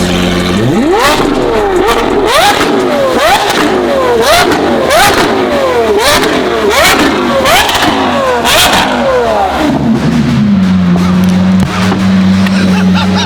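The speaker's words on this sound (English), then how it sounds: "the first exhaust is Gintani's F1 exhaust with a flame tune" Lamborghini Aventador SVJ fitted with a Gintani F1 exhaust and flame tune, revved hard in a rapid series of about ten loud, rising blips close by, then settling into a steady idle drone.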